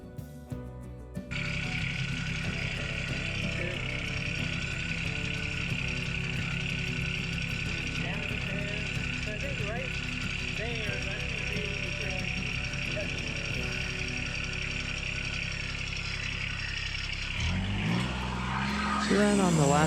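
A sawmill motor runs under load cutting red oak beams, a loud, continuous droning hum that holds steady for most of the time before its pitch shifts and the sound changes near the end.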